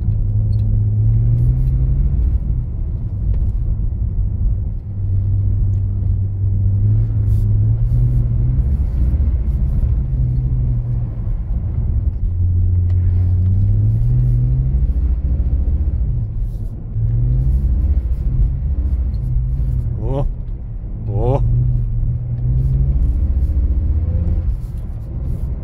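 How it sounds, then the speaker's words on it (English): A rear-wheel-drive BMW E46 drifting in snow, a loud continuous engine rumble that rises and falls with throttle changes through several revving swells, heard close from inside the car, with brief squeaks near the end. "That might have been my best drift ever, right there."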